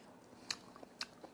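Quiet, close chewing of horned turban sea snail with two distinct crunchy bites about half a second apart and a softer squelch after.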